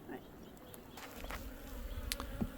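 Honeybees buzz around a smokeless bee smoker on a hot day, a soft continuous hum with individual bees passing close now and then, quiet and steady.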